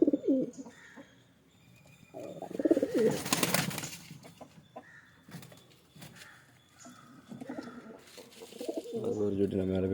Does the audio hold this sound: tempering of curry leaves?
no